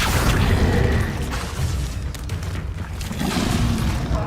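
The Bombarda explosion spell goes off in Hogwarts Legacy with loud, heavy booming bursts and rumbling crashes, several blasts rolling into each other over a few seconds, and no voices heard.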